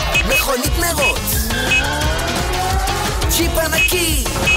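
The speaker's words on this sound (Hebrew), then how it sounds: "מכונית מרוץ" A race car roars with squealing tires, mixed into upbeat children's dance music that plays loudly throughout.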